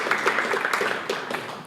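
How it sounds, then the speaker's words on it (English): An audience at a healthcare AI and robotics panel event claps for the panelists, a dense, steady patter of many hands heard close, with no talking. "please give them a warm applause."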